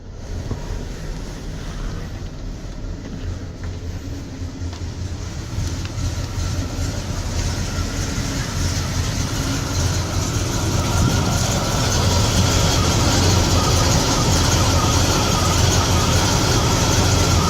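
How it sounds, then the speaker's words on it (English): A 1986 Beaver motorhome engine idling steadily, heard from outside right next to it: a continuous low rumble with a broad wash of noise that swells slightly over time, no talking. "It's not a really loud motor."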